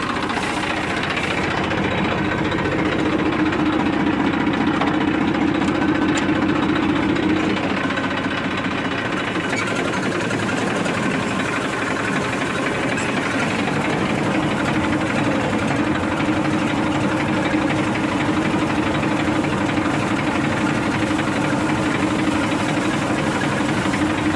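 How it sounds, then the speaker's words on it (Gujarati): A tractor engine runs loudly and continuously nearby, a steady rattling, knocking chug with a persistent low hum, no voices. "ટ્રેક્ટર દેશી જુગાડેથી ચાલુ કરી લીધું"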